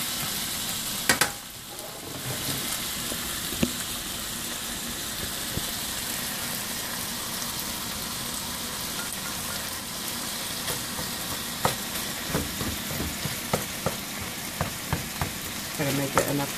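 Onions sizzle steadily in a hot pan for a cheesesteak, a dense continuous frying hiss with sharper spoon-and-pan scrapes and clicks near the end.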